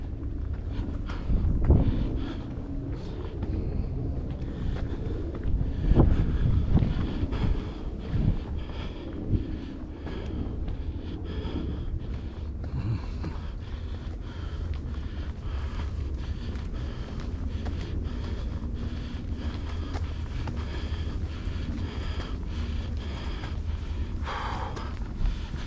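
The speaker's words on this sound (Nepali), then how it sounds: "त्यो गहिरो गहिरोमा चाहिँ हावा आउँदो रहेछ है" Wind gusting across a hillside on a hike near So Kwu Wan, Lamma Island, Hong Kong, a constant low rumble buffeting the microphone with brief louder bursts, no talking.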